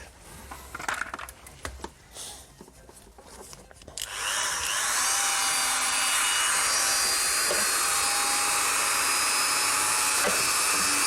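Power drill enlarging a small, too-tight existing hole while building a Lightning Network candy dispenser, a steady loud close whine that starts after a few seconds of light handling noises and continues without a break to the end.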